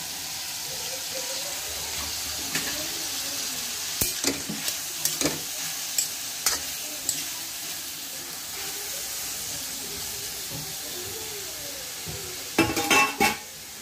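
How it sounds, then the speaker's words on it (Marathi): Onion and tomato stirred and roasted in oil in a pan, a steady soft sizzle with scraping spatula strokes and a few louder clatters near the end, no talking. "कांदा आणि टोमॅटो आपल्याला छान एकत्र भाजून घ्यायचे"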